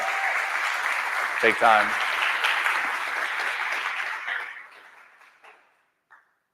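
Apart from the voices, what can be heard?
conference audience applauding sponsors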